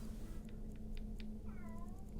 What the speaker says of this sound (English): excuse my cat, it is extremely loud.